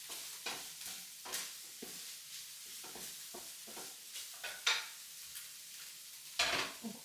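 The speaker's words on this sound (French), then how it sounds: "Je continue à mélanger en même temps parce que j'entends que ça pète derrière" Rice sizzles and crackles in a hot pan while a utensil stirs and scrapes it, with repeated short scraping strokes over a steady frying hiss, close by and without talk.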